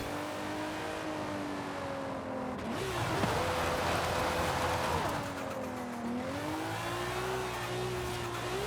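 A car engine in Forza Horizon drones steadily and fairly loud throughout, its pitch rising and falling as the car shifts and revs along a straight stretch of road, with a brief surge near the middle.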